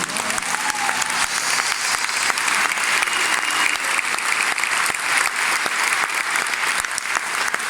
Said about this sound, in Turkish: Bütün alkışlarla ben kutlayayım.